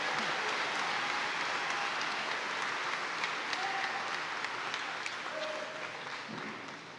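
Crowd applause at the Glen Cove High School 2023 graduation ceremony, a broad, steady roar of clapping in a large space that slowly tapers off toward the end.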